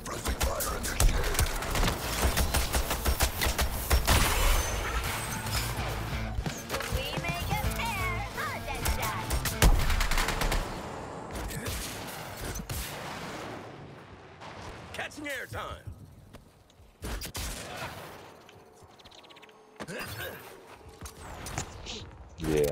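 Heavy gunfire and blasts in a squad-based video game firefight inside a cave, dense and loud for the first half, then thinning into scattered shots and rumbles with voices talking over it.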